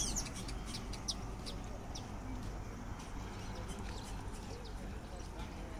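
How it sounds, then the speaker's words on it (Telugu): Many birds calling at dusk as they return to their nests in Nairobi National Park, Kenya; scattered high chirps and calls over a steady outdoor rumble, with a person talking throughout. "పక్షులు అన్ని గూడుకి వెళ్ళిపోతున్నాయి"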